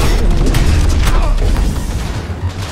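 A loud, rumbling explosion in the video game Cyberpunk 2077 fills the start with crackling debris, then slowly fades into a lower, noisy roar.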